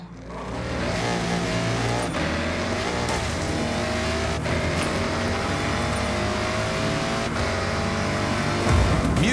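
Ford Raptor engine in the racing game Forza Horizon 6, a loud continuous drone as the truck accelerates and cruises, with shifting pitch and a brief rough burst near the end, no talk.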